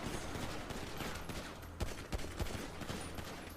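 Rapid gunfire in Grand Theft Auto Online, a dense rattle of shots over a noisy game background with a few sharper reports standing out, moderately quiet.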